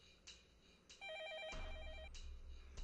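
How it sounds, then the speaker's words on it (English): A telephone rings in the visual novel Fate/stay night Heaven's Feel, a steady electronic trill repeating close and clear, with a low hum joining partway through and no voices. "The phone rings."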